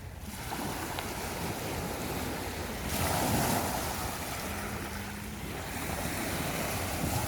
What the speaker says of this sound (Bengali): সমুদ্রের ঢেউ।